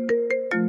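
A ringtone chimes in three short bursts over a sustained tone, loud and close, with a pitch shift on the last burst and no voices.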